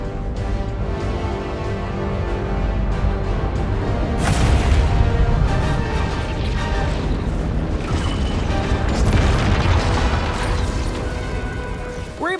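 Video game combat from Fortnite's battle bus fight: repeated heavy booms, crashes and blasts over a dense rumbling background, growing louder in the middle, with a voice narrating over it.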